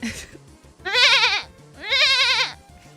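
A goat bleats twice in a row, each call loud, close and wavering, with a low steady hum in the background and no talk.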